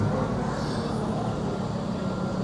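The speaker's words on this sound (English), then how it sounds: "that takes that train right there, the D train" A New York City D subway train rumbles past nearby in a residential shopping neighborhood, a steady loud low roar filling the whole moment with no pauses.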